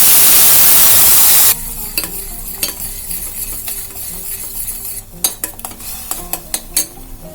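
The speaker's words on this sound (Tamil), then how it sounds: "சீரகம் பொரிந்ததும் அரைத்து வைத்த விழுதை சேர்க்க வேண்டும்" Ground paste tipped into a pan of spluttering cumin seeds: a loud, broadband burst of frying for about a second and a half, then a lighter sizzle with sharp spoon scrapes and clinks against the pan.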